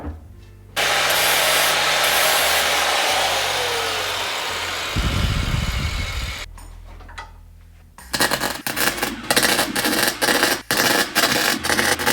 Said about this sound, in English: I'll try to weld a nut on the stud and see if it could be removed that way